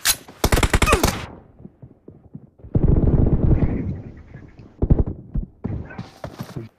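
Gunfire in an online shooter game: a tight burst of rapid automatic shots at the start, then a longer spray, with scattered single cracks and clicks in between and a few more shots near the end.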